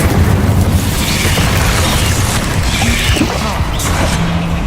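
An Incendio fire spell cast in Hogwarts Legacy, a loud, sustained burst of roaring flame and booming impacts that fills the whole moment amid ongoing combat noise.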